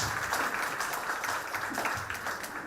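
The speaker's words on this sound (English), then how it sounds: "I think all of them deserve an appreciation from you in the form of applause." Applause for school staff at a school Independence Day program, a soft, steady patter of many hands clapping throughout, fairly faint and distant-sounding, with no clear talk.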